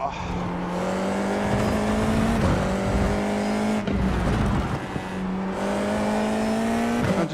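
F4 race car engines at Navarra in iRacing hold a steady high drone that dips on each gear change and climbs again, close and loud throughout, with a voice coming over the engine noise.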